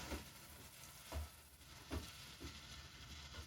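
Spices are stirred into a sizzling sauce in a pan, with a quiet steady frying hiss and several soft spoon scrapes and knocks against the pan at a slow, uneven rhythm, no voices.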